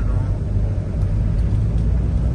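Many vehicles crossing a bridge in Laoag City make a dense, steady, loud rumble of traffic with a deep low-end drone that holds without a break.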